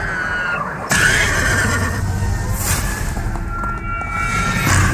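A horse whinnies and squeals in a NOPE movie trailer, loud and close over a dense, continuous cinematic soundtrack, with hoof clops faintly audible.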